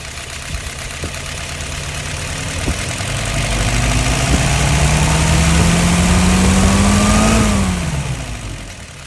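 The engine of Brian's 938 idles near 700 RPM, then swells into a smooth rev that holds briefly before it drops back to idle, close and loud, with no voices.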